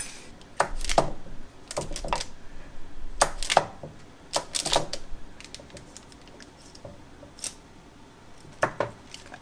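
Knife cutting butter into pieces on a board for a pie crust topping with flour, sugars and chopped nuts; a series of sharp, close cuts and taps come in uneven bursts, some in quick pairs, with quieter gaps between.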